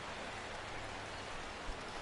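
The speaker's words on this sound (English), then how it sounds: "there's a little bit of rain coming down" Light rain falls as a soft, even hiss, steady and faint throughout with no distinct drops standing out and no voices.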